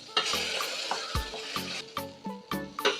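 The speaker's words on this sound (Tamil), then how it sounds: "இப்போ பட்டர் காஞ்சிட்ருக்கு." Butter bubbling as it melts in a hot pan, soft close sizzle broken by repeated sharp pops and spits.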